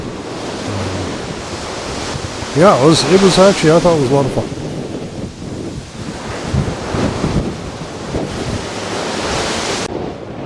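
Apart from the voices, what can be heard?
ocean waves and spray hitting a cruise ship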